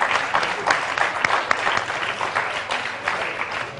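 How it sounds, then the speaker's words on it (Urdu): A studio audience at a televised Ramadan iftar program gives sustained, dense applause, loud and steady throughout, with no voices standing out. "میں چاہتا ہوں کہ ان سب کے لیے کھڑے ہو کر استقبال کر کے تالیاں بجائیں"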